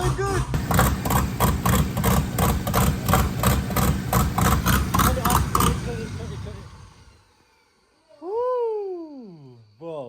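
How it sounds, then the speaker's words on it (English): Turbocharged engine swapped into a Honda Civic starts up and runs loud, a dense rumble with rapid pulsing for several seconds before cutting off, followed by a whooping voice. "That was loud. Turbo spinning."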